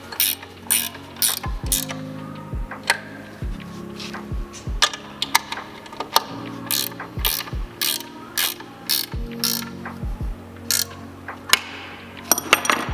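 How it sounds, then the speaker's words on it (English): A 13 mm ratchet wrench tightening cage clamps on a shot-blast machine's blast wheel: steady series of rapid metallic ratcheting clicks in repeated strokes with short pauses between, close and clear, no voices. "Take my 13 millimeter and just tighten this up."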